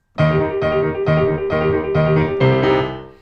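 Piano chords struck in an uneven repeating pattern with displaced accents, about six groups of notes with irregular accents, ringing clearly close by.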